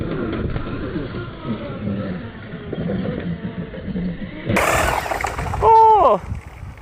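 A Redcat Rampage XBE 8s fifth-scale RC buggy on a speed run. Muffled rumbling and some talking come first, then a sudden loud rush of wind and a brief high-pitched motor whine that rises and falls near the end.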